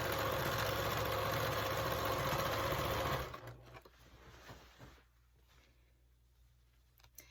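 A sewing machine runs a steady, loud stitch along a 5/8 inch seam on a pair of pants for about three seconds, then stops, leaving faint handling rustles and quiet room noise.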